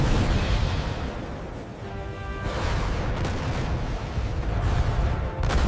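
SM-6 missile launches and explosions roar in sequence, dense booming rumbles with sharp blasts and swelling whooshes, loud and close, layered over one another with no speech.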